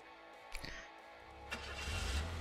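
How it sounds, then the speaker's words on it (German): Car engine cranking and catching in the game Gas Station Simulator, with a short starter whir followed by a rising mid-pitched engine rumble that swells louder toward the end, no talking. "Ich finde das immer geil, dass sie erst losfahren und dann das Auto starten."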